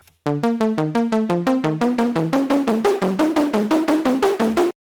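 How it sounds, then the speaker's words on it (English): A synth saw wave, its pitch modulated by a noise oscillator, plays a quick run of about twenty bright staccato notes in a stepping melodic sequence, loud and close. The notes start after a brief silence and stop abruptly, with no voices. "we're using the signal of the noise oscillator to kind of turn the pitch knob, so to speak, on our saw wave"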